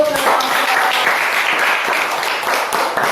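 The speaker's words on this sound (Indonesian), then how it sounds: "Mari kita semua tepuk tangan untuk" Classmates applaud a student group after an ecosystem role-play presentation in a school classroom, a dense, steady patter of many hands clapping close by for about three seconds, with some voices mixed in.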